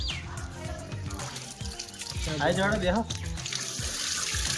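Water gushes from a hose while a vehicle on a farm is washed out, a steady splashing rush close by with people talking over it.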